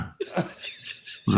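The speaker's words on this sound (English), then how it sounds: "Cough." A single sharp cough, followed by soft breathy sounds and a brief voiced laugh-like burst at the end.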